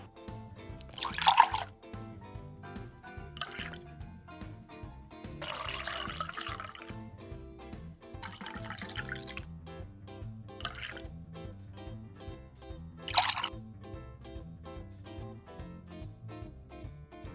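Soy sauce, red vinegar, water and sugar are stirred together in a bowl: soft liquid sloshing with several short, bright bursts of splashing and clinking spaced irregularly over a quiet background.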